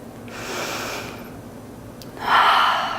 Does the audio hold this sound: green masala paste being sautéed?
no